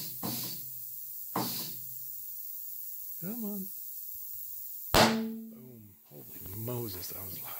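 A car tire bead seats onto the rim of a BMW E39 wheel with a loud hiss of escaping air and sharp pops, several bursts in quick succession, mixed with nearby speech.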